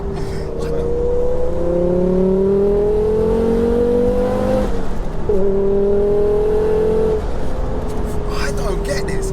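A 690 bhp front-wheel-drive Ford Focus RS makes a first-gear full-throttle pull on a soaking wet road, its engine note climbing steadily and loudly, dipping briefly at a shift-like break before rising again, with voices over the cabin sound.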